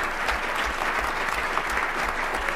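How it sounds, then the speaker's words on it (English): Steady, dense applause from a conference audience at a biotech policy breakfast, honoring the event staff. Many hands clap loudly and evenly with a faint low rhythmic thump underneath. "how about a round of applause for the MassBIO staff?"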